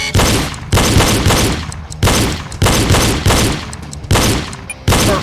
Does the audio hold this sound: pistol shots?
yes